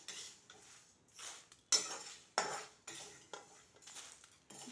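A metal spoon scrapes and clinks against a pan as roasted lentils are scooped out onto a plate, in a series of sharp, close strokes with brief pauses between them.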